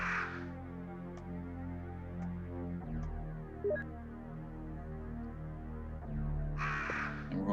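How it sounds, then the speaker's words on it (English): Crows caw in the survival horror game Resident Evil, several harsh calls over a low droning ambient hum, with a brief burst near the start and another toward the end, moderately loud and without talk. "And we're going to leave all those crows right there."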